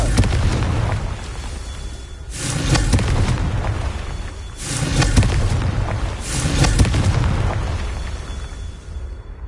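Three heavy booming fire-spell blasts in Hogwarts Legacy, each a broad roaring burst that swells and fades over a continuous rumbling game backdrop, spaced a couple of seconds apart.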